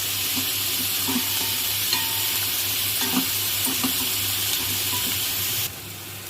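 Finely chopped onions with a pinch of salt frying in a pan, giving a steady close sizzle while a spoon stirs and scrapes with intermittent light clinks.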